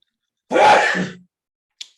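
A single loud, close sneeze bursts out sharply, then trails off, followed by a brief faint noise after a pause.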